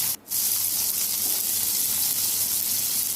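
Small onions and garlic cloves sauté in hot oil for a dry fish kuzhambu, giving a steady, close, loud hiss and sizzle that drops out for a moment near the start and then continues unbroken.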